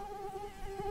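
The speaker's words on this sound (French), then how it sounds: "Allez, c'est qu'un moustique là" Mosquito buzzing close by in a steady, high, whining drone that holds unbroken for the whole moment, with no one speaking over it.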